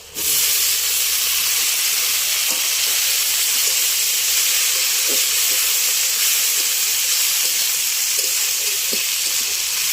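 Dried fish frying in a hot pan, a loud, steady hiss and sizzle that continues evenly throughout with faint occasional stirring clicks and no voices.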